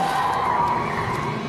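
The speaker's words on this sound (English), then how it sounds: "I heard some tires sliding on pavement." Tires screech against pavement in a sustained, loud squeal, close by, with no voices over it.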